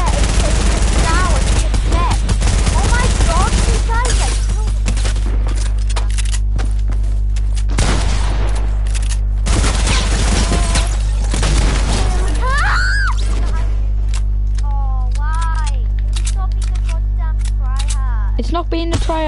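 Rapid video game gunfire with repeated bursts of shots and impacts, loud and dense throughout, while players talk and shout over the action.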